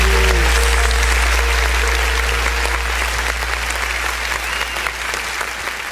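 A congregation claps during a church worship service, loud, sustained applause over a deep held musical drone, gradually easing off toward the end.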